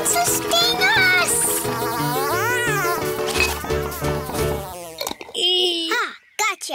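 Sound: cartoon bee buzzing

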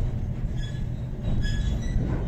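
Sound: train moving into Panevėžys train depot

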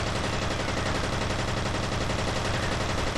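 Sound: turrets firing in the video game F.E.A.R. Extraction Point

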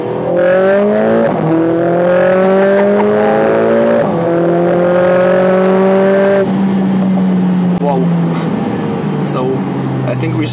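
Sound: Mercedes A45 S AMG four-cylinder turbo accelerating on a straight

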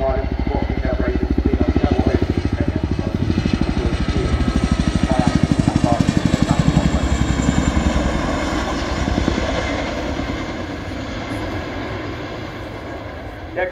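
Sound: display aircraft flying past at the RIAT airshow

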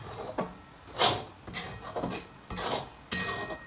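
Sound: stirring rice kheer in milk in a pot

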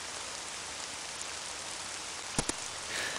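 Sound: heavy rain hitting a roof in a video game

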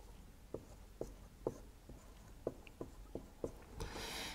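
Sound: writing out a maths equation

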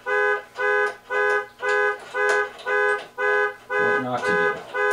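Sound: car alarm beeping

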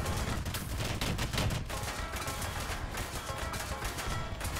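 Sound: tank roof-mounted machine gun firing in War Thunder video game

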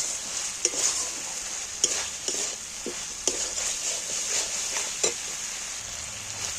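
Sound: stirring and frying spice masala in oil

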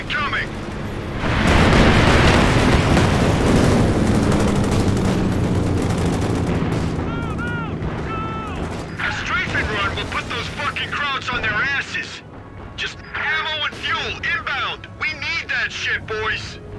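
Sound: rocket runs striking in video game Company of Heroes

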